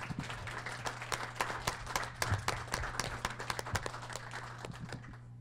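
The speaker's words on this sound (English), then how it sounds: "Let's give them a round of applause." Audience applause at a downtown Fort Wayne business event, a roomful of people clapping steadily with sharp individual claps standing out, fading slightly near the end.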